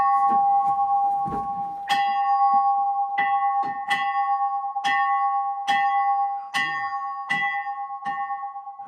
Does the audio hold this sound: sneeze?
no